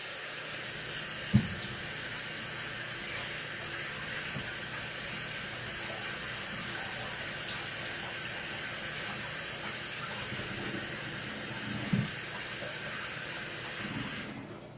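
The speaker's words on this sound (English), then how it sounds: "let me put some water in this so it doesn't stick" Water runs steadily into a pan with a continuous hissing rush, punctuated by a couple of brief clanks, no voices.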